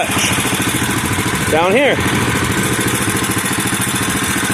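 A Bolens garden tractor engine idles close by with a steady, rapid chugging pulse and light clatter, running continuously while someone briefly speaks over it.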